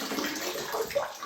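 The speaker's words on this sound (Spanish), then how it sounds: "en este caso el agua lo único que hace es impulsar el aire" Water pushing air through a water-driven musical instrument, giving a steady bubbling, gurgling wash that stays close and fairly soft over its short length.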